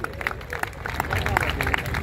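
Audience applause at an Urdu mushaira poetry gathering in Karachi, a continuous patter of many hands clapping from a crowd, moderately loud and steady throughout.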